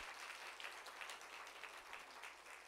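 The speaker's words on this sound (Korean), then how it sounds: "다시 한번 하나님께 영광의 박수를 드리십시다" A church congregation claps for its choir at an Easter service, a faint, even patter of applause that continues alone, with no voices, for the whole short stretch.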